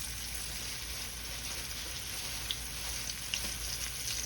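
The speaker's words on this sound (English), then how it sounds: "All I'm gonna do is, like I say, just get a nice good sear on them." Turkey tails searing in a hot pan for old-school smothered turkey, a steady close sizzle and crackle throughout with a couple of brief sharper pops.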